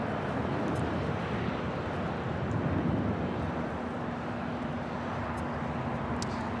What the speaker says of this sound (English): Turkish A350 arriving on the north side.